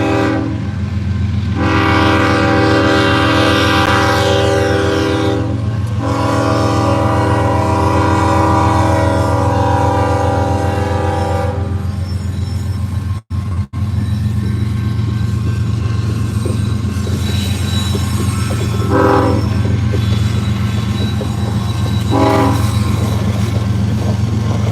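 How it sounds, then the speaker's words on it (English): A loud train passes very close by, a heavy continuous rumble of rolling cars and wheels with long blasts of the horn sounding over it. "We got a train right here going by."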